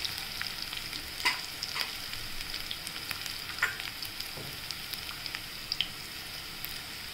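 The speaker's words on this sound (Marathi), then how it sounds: "अजून आपण थोड्या वेळ परतून घेऊया सोनेरी रंग येतोपर्यंत" Sliced onion sautés in a pan until golden, with a soft continuous sizzle broken by occasional stirring scrapes and light pops, heard close and fairly quiet with no talking.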